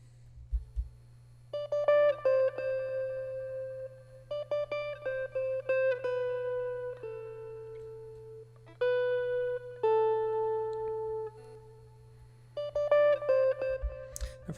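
Main guitar melody of a sample, plucked notes in short repeating phrases over a steady low drone, clear and moderately loud with a gentle, even rhythm.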